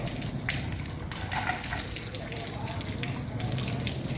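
Water runs steadily from a tap while a charpai is washed, a continuous close gushing and splashing that lasts throughout, with faint speech underneath.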